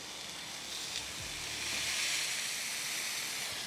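Tri-tip sears on a Ninja Woodfire grill with the lid open, giving a soft, steady hiss and sizzle, with faint handling knocks early on.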